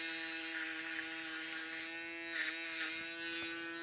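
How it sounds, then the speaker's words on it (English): Close, steady electric buzz of a foil shaver cleaning up the back section of a taper haircut, a constant motorized hum that wavers slightly as it passes over the hair, with no talking. "I jumped on my foil shaver"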